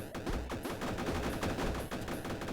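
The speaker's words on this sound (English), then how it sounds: "Marsh shoots the cannon on the left, which causes a little bit of a chain reaction" Rapid gunfire-like booms from a cannon fired in a video game tournament match, a dense, continuous volley of sharp blasts over about two and a half seconds with no pauses.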